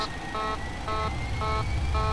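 Cockpit alarm in a Boeing 737-300 in X-Plane 11: a repeating electronic tone, four evenly spaced beeping bursts over a steady low engine rumble, clear and moderately loud with no talking.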